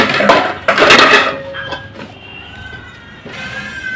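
Plates and dishes clatter loudly and close up in a home kitchen at mealtime, with a dense burst of ceramic clinks early on that thins into scattered lighter knocks and rattles.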